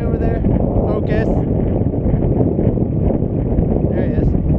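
Strong wind on a mountain top roars loudly and steadily across the microphone in a dense, continuous rumble, with brief faint voice fragments barely showing through.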